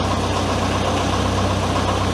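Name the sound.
engine of a DIY mini loader starting and idling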